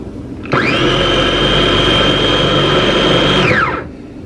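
A SakerPlus multifunctional large-capacity grinder purees tomatoes, its motor starting abruptly at a loud, steady high-pitched whine. It holds for about three seconds and then winds down, with no one talking.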